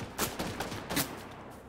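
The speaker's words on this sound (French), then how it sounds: "Il tire sur le bot." Gunfire at a bot in Fortnite: several sharp shots in quick, irregular bursts, fairly near, with no talking.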